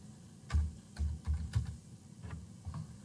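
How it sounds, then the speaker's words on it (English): Keys tapped on a computer keyboard while entering a search term, a short run of soft, uneven clicks close by with no talking. "I'm going to type in up here, Screen"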